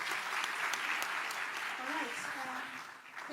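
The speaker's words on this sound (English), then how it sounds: "Let's give them one more round of applause and we begin." Applause from the audience of a panel discussion on marriage, divorce and remarriage, a soft, distant wash of clapping with voices talking over it.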